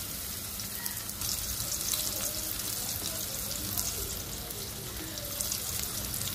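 Chopped onion frying in hot oil in a pan: a continuous, even crackling sizzle that holds steady throughout at moderate loudness.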